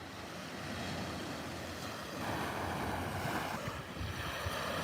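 Ocean surf rolling onto a Florida east coast beach, a steady, full wash of breaking waves mixed with wind buffeting the microphone, continuous and fairly loud, with no voices.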